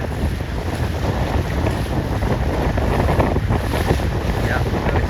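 Strong wind roars over the microphone aboard a C420 sailboat racing in a regatta, with water rushing and splashing along the hull; loud, dense and unbroken for the whole stretch, no voices.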